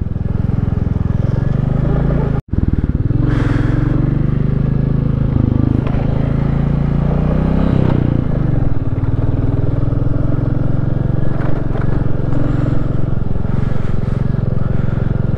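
A motorcycle rides on a black-ice mountain road from Chungthang to Gurudongmar in North Sikkim, its engine a loud, continuous rumble with wind noise and shifting revs, briefly cut out once near the start.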